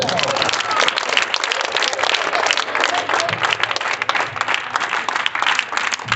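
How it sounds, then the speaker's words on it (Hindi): Students in a Hindi-medium math class clap together, a loud, continuous burst of many hands that runs steadily for about six seconds with some voices mixed underneath. "चलो ताली बजाओ"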